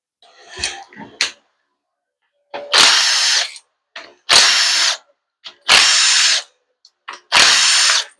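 A ratchet spins off 8 mm bolts from the valve body of a Ford 4R70W automatic transmission, giving four loud, close, rapid whirring bursts of about a second each, with a few softer clicks before them.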